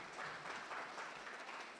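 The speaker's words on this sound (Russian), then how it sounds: "Аплодисменты." An audience at an IT profession contest award ceremony claps in a steady, dense round of applause that stays even for under two seconds.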